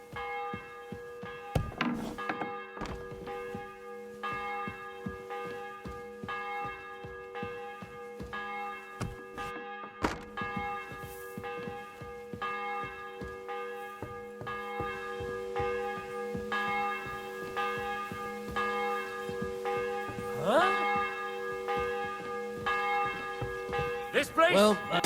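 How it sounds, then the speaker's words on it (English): A church bell in Kingdom Come Deliverance 2 tolls in repeated, ringing strikes whose long resonant hum lingers between hits, with occasional thuds and a voice briefly heard nearby. "bell's ringing for Hans the 5th time"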